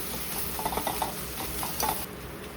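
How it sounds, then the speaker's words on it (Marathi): The back of a spoon mashes softened tomato in a pan, giving soft, squelchy taps and scrapes over a steady gentle sizzle, with no voices. "चामच्याच्या उलट्या साईडने आपण त्याला स्मॅश करून घेऊया"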